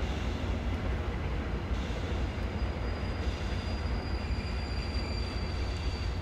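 A slightly overlong regional train running in Train Simulator, a continuous even rumble of wheels on track with a faint high squeal now and then, steady and close throughout with no voices.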